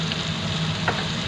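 Butter sizzling in a hot pan, a steady close frying hiss with a single small pop partway through.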